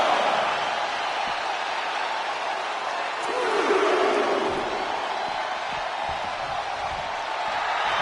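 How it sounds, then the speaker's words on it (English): In a WWE 2K26 video game arena, a crowd roars in a continuous, moderately loud wash of cheering that swells slightly midway. No voices stand out from the roar. "The crowd is fired up."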